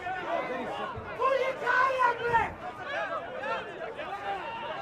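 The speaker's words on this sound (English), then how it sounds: "And the home crowd screaming for a yellow card." Home supporters at a football match shout and roar in protest after a cynical foul, a dense crowd clamour swelling loudly in the middle and staying busy throughout.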